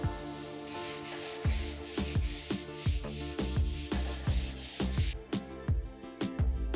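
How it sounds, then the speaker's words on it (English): Sanding of dried drywall mud on a studio's back wall and ceiling, a steady series of rhythmic rasping strokes, close and fairly loud, with no talking. "Sanding, of course, the worst part of all."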